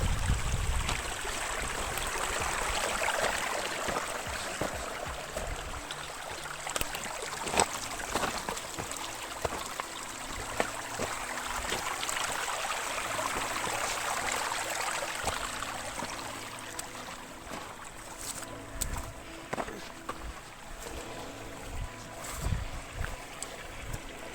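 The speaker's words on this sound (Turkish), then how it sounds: "Şuradan şöyle derenin içinden suların şarıltısıyla birlikte yürüyelim." A mountain stream flows at a campsite near Göksun, steady rushing and babbling water close by with scattered splashes and rustling on top.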